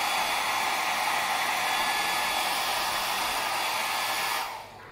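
A Yimoko hair dryer runs on its cool setting, a steady, loud blowing roar close to the listener that continues unbroken for several seconds before being switched off and quickly fading; no speech.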